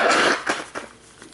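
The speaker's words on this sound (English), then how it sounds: "let me just blow my nose here" A person blows their nose, a close, forceful breathy gust followed by two shorter snorting puffs that quickly fade.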